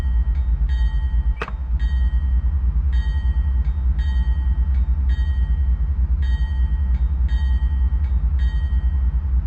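A diesel locomotive in Microsoft Train Simulator pulls away from a standstill, a steady low rumble running throughout while a bell rings in regular repeating strokes over it, with one sharp metallic clank just before the second mark.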